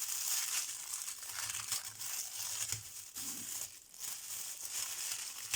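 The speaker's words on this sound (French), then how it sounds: "j'ai craqué le papier" Paper crinkles and tears close up, a continuous rustling with a few sharper rips, no voices over it.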